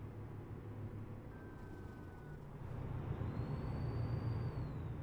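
A Kenworth T680 in American Truck Simulator rumbles along while its air brakes hiss and release, with a low engine drone that grows louder partway through.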